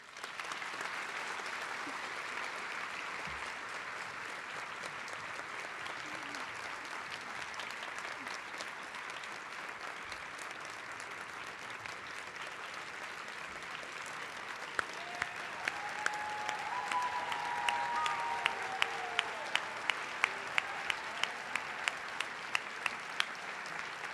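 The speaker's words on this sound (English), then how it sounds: "can we please have one last round of applause for our veterans?" Sustained audience applause for veterans at a high school Veterans Day assembly, a steady dense clapping that fills the room throughout, with a few sharper individual claps standing out near the end.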